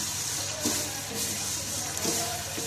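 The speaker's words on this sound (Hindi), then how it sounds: "बिल्कुल थोड़ा सा पानी ऐड करूंगी" A little water is poured onto sugar in a cooking pot to make syrup for sweet rice, a steady, soft splashing trickle close to the microphone with no talking.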